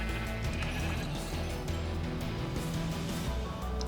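Sheep in Minecraft bleat repeatedly, a dense overlapping chorus of game-style baas that carries on steadily without pause, fairly quiet overall and with no talking.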